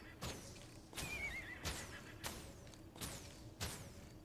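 Horse whinnies from the video game Guild Wars 2, several short neighing calls repeating at roughly regular intervals over a soft game background, moderately loud with no talking.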